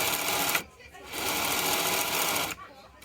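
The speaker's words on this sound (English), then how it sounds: "basically the small sewing machine motor, same idea" A small sewing machine motor powering a sharpening setup whirs steadily, cutting out briefly twice, with a steady high hum throughout.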